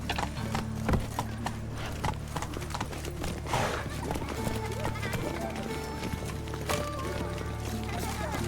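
Geralt's horse Roach in The Witcher 3 gallops with a rapid, rolling clip-clop of hooves, loud and close, while someone speaks over the hoofbeats.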